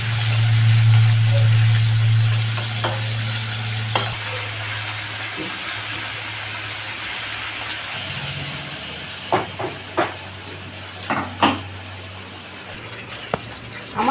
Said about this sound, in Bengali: তেল গরম হয়ে গেছে আমি এবার মাছগুলো ছেড়ে দিচ্ছি বেশি ভাজবো না অল্প করেই ভেজে নেব